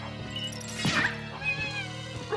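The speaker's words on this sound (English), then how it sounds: "So these witches, they turn into little cats." Game cat meows from witch enemies that turn into small cats in Castlevania: Symphony of the Night on PlayStation, a few short mews over steady background music.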